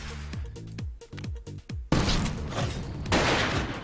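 A missile launched at an enemy in the video game Artificial Defense fires after a run of short descending electronic tones, breaking into a loud, sudden blast that rumbles on and swells again near the end.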